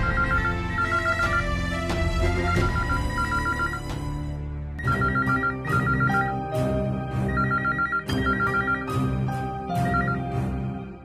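Telephone ringing repeatedly in a Tamil TV serial scene as a call is placed again, a loud patterned electronic ring tone with bursts and brief gaps, heard alone without talk.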